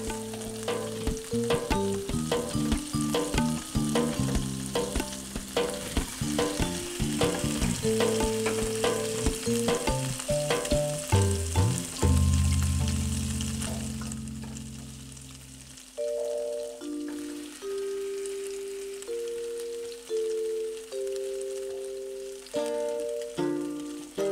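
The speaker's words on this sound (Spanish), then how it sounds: "Una vez que ya están ligeramente dorados de un lado, simplemente damos la vuelta y vamos a dorar del siguiente lado." Bread slices soaked for French toast sizzle and fry in a pan, a continuous crackle running beneath background music throughout.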